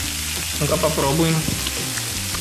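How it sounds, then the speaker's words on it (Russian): Bacon sizzling in a frying pan, a steady close crackle and hiss throughout, with someone briefly speaking over it. "Вот, так еще и с беконом, смотри, оно тут жарит."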